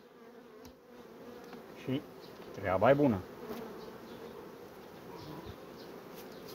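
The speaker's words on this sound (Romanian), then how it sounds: "Așa arată plină de albină." A low, continuous buzz of many honeybees around an opened hive fills the background, with a brief louder drone swelling midway and a voice speaking softly over it.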